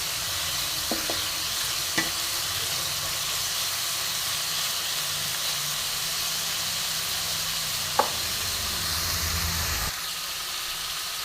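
Prawns frying in a pan over a medium flame, a steady hissing sizzle with a few clicks and knocks of a spatula against the pan, ending abruptly.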